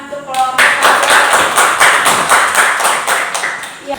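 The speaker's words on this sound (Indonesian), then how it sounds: "tepuk tangan untuk kelompok" Students in a classroom applaud a presenting group, loud close clapping from a modest crowd in a brisk uneven patter, with a voice briefly heard at the start.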